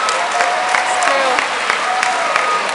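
Audience clapping at a school farewell assembly, a brief burst of dense applause from a crowd with scattered louder individual claps and a voice faintly mixed in.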